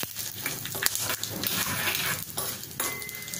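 Cabbage salad stirred in a pan after a hing tempering on a gas stove that has been turned off, with a soft sizzle and hiss under intermittent scraping and clinking strokes of the spoon against the pan, close and fairly quiet.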